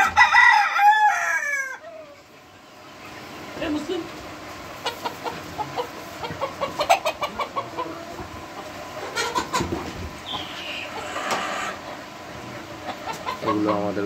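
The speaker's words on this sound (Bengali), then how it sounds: "এগুলো আমাদের বড় মুরগি।" Egyptian farm laying hens clucking and a rooster crowing in a poultry yard, loud bursts near the start followed by scattered clucks and calls over steady farm background noise.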